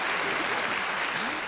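Dense, loud audience applause at a Derren Brown magic show, a continuous wash of clapping from a large crowd filling the whole short stretch.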